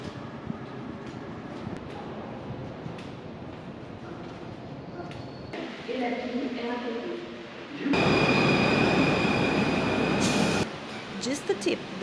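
A Paris metro subway train rumbles and clatters steadily, growing louder as it nears and passes, with a brief screeching burst near the end over the underlying noise.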